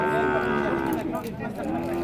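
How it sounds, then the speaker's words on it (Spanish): Cattle lowing at a livestock fair in Joyabaj, Quiché, heard as a steady, dense din of moos from many animals close by, filling the whole stretch with continuous bovine calls and crowd noise. "comprando las vacas, toros, los ganados, ¿verdad?"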